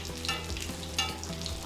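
Katsu sizzles and crackles in hot oil in a shallow cast iron pan, a dense, continuous fry with bursts of spattering while oil is basted over it.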